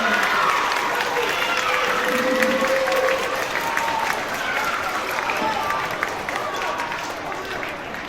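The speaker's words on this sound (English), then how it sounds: "Let's give them a round of applause." Audience at an elementary school Veterans Day ceremony applauding students, a broad sustained wash of clapping from a large crowd in a hall, with voices and some shuffling mixed in, gradually easing off toward the end.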